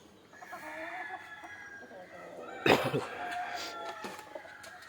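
Hens clucking softly nearby, with a louder squawk partway through and faint crowing in the background.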